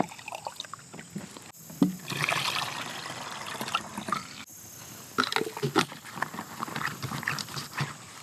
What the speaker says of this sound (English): I'll mix together a part 3, which is nothing more than 1 part vinegar and 1 part distilled water